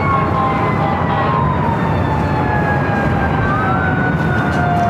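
Fire truck sirens wail continuously as trucks from outside fire stations respond to an airport alert at LAX, several rising and falling tones over a loud, steady background roar.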